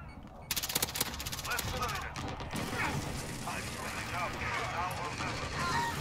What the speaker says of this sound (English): Great, shotgun.